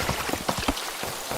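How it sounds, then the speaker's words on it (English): Loud rain in Craft The World patters densely and continuously, with distinct drop impacts splashing up close through a steady hiss, with no voices. "Wow, that rain is loud."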